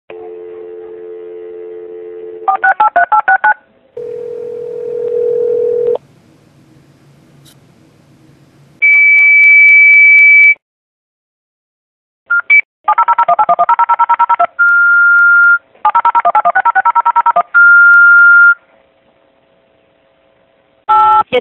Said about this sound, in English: Your alarm telephone is dialing for assistance.